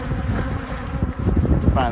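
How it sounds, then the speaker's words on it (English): Honey bees drone around a hive, a continuous close buzzing with light wind rumble on the microphone and a brief higher whine near the end. "I see bees in there"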